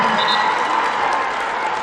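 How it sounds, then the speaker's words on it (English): A packed home crowd at a high school basketball game roars and applauds in a continuous, loud wash of cheering that fills the gym, with an announcer talking over it. "And listen to this crowd."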